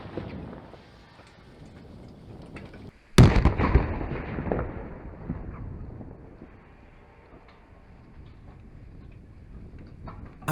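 During demining, a controlled detonation destroys unexploded ordnance: one sharp, loud blast strikes suddenly after near silence, then a rumbling, crackling decay fades over several seconds.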